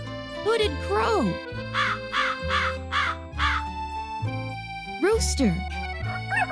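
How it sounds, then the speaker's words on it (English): Hooded crow cawing in a series of harsh, repeated calls, loud and close, over a steady musical backing with a voice naming birds. "Hooded crow."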